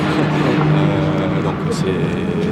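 A Peugeot 908 HDi race car lapping the Castellet circuit, its engine droning steadily at a distance beneath someone talking in the foreground.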